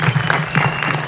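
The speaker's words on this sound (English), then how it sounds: "So I think we should clap for Bhushan as well" Brief burst of audience clapping at a Bollywood song launch event for the film Srikanth, a loud, dense patter of many hands filling about a second.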